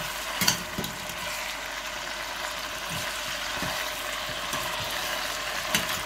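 Soft scraping and clinking of a utensil stirring chicken vermicelli with garlic in a pan, a few light knocks over a steady sizzling hiss.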